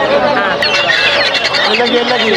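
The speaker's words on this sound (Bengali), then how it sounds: "দর্শক দেখতে পাচ্ছিলেন এখানে কিছু চিনে মুরগি আছে" A flock of chickens, including Chinese chickens, clucking and chattering continuously at a foreign-breed poultry market in Dhaperhat, Bogura, with overlapping bird calls and a busy, noisy background throughout.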